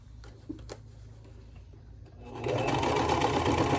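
Sewing machine stitching a crochet-style quilt block, starting after a quiet stretch of faint handling clicks and then running as a steady, loud, close mechanical hum.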